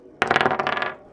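Dice clatter across a table during a tabletop roleplaying game, a sharp burst of several quick rattling bounces that settle and fade within a second, close and clear with no talking.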